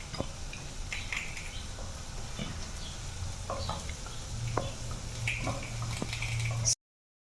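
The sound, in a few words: egg and sweet potato mixture frying in a pan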